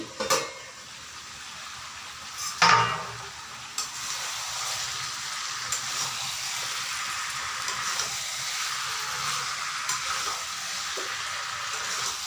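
Chicken feet curry bubbles and sizzles in a pan while a spatula stirs it. Metal clanks against the pan near the start and again around the middle, over a steady frying hiss with no talking.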